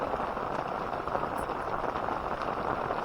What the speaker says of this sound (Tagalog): Ay, lumalakas ang ulan.